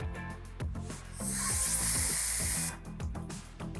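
A hand spray bottle mists Holbein Rapid Tableau varnish onto paper beside an oil painting, giving a steady, fairly close hiss of about a second and a half that stands out over a rhythmic low thumping background.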